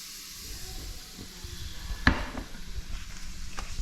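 Triggerfish frying in butter in a pan gives a steady, fairly quiet sizzle with a sharp clack partway through and small crackles around it.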